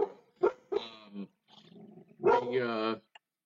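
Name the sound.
dog barking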